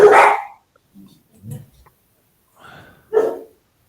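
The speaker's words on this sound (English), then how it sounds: "There's some mad animals there. Who's got dogs?" Dogs bark a few times off to one side, with an opening bark loud and close and then a few shorter, softer barks and yips spread out, ending on another sharp bark.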